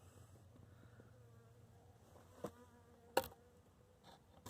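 Bees cluster inside a beehive, giving a faint, thin, steady buzz, broken by a few soft knocks and one sharper bump.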